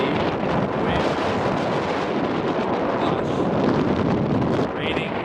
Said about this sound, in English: Out here in the bush, it's freaking windy.